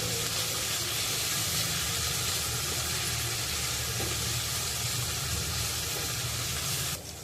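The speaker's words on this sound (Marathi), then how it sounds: "तेल चांगलं तापलेलं आहे आता आपण त्यामध्ये लसूण आलं आणि मिरची जी ठेचून घेतलेली आहे ती घालणार आहोत ठेचलेलं आलं लसूण चांगलं परतून घ्यायचं आहे" Crushed garlic, ginger and chilli hit hot oil for a fish curry, giving a loud, steady, close sizzling hiss that runs unbroken for about seven seconds before easing slightly at the end.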